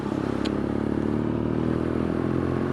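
A BMW R nineT Scrambler motorcycle riding on a rainy road with its engine held under throttle, producing a steady, close, low rumble alongside wind noise, with no one speaking.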